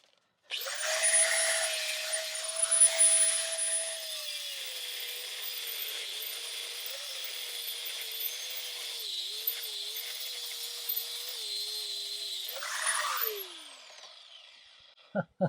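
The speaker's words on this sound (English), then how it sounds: "Get your grinder in there at an angle and all that. So go ahead and start cutting and get these off." An angle grinder cuts through the front sway bar end links on a Chevrolet Trailblazer. It runs as a loud, steady high whine for about twelve seconds, its pitch sagging under load, then spins down and goes quiet, with a couple of brief knocks at the end.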